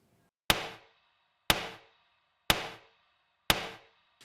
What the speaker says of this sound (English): come together to make a composite texture or sound for that what's functioning on the 2 and 4 as a sort of snare